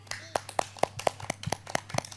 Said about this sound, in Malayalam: എല്ലാവരും ക്ലാപ്പ് ചെയ്തേ.